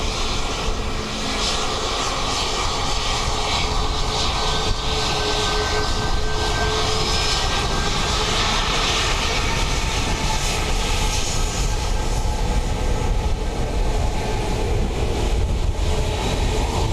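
A jet airliner comes in to land on runway 28 left at Dublin Airport on a windy day, a loud continuous engine roar with rushing wind noise that persists throughout, heard from close by without talk.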